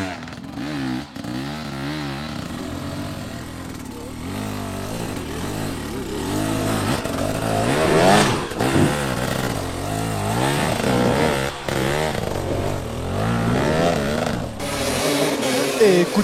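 Enduro motorcycle engines rev and strain during a hard enduro Extreme Challenge race in the Limousin, with a steady rising and falling engine drone heard under continuous commentary.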